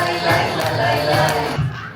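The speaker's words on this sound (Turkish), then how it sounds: "Siz önce bir öğretmenlerinizi kocaman bir alkışlayın bakalım" Young children and guests at a preschool graduation ceremony in Malatya clap for their teachers, a loud, busy burst of crowd applause and cheering that dips briefly before swelling again.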